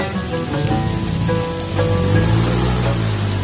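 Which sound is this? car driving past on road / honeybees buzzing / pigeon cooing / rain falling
rain falling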